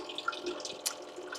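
Water runs and trickles faintly into a Trangia bottle as it is filled, a soft, steady pour with a few small splashes.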